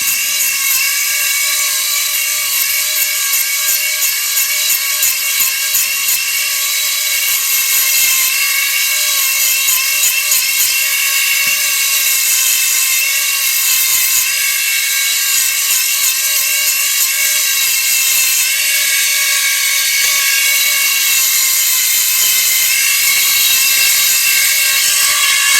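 An old, worn Dremel rotary tool grinds a fishing rod guide, giving a loud, continuous high-pitched whine that holds steady for the full length with small fluctuations and no talking.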